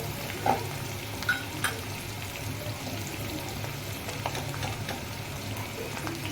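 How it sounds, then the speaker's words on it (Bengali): Capsicum frying in a pan, a steady low sizzle with occasional clicks and light stirring scrapes, close and fairly quiet, no voices. "এই যে এবার ক্যাপসিকামটাকে একটু ভালো করে ভেজে নেব।"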